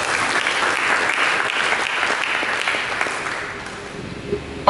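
A church congregation breaks into sustained applause during a sermon, with broad, even clapping that slowly thins and fades toward the end, closing on a couple of sharp knocks.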